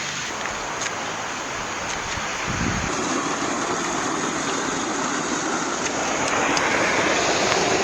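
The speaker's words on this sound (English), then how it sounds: "You can hear there's a little creek." A small creek at a wild campsite near train tracks flows steadily, giving a continuous broadband rush of water that stays even and fairly close, with no talking.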